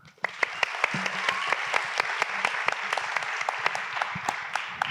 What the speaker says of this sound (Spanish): Y ahora recibamos, por favor, también con un aplauso a Julio Jorquera.